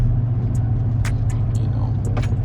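2007-2013 Chevy Silverado high-mileage truck engine idling with a steady low rumble, with faint clicks and ticks over the top.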